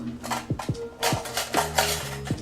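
A metal teaspoon clinks and scrapes against dishes in a home kitchen, producing a series of bright, ringing taps in an irregular rhythm at close range.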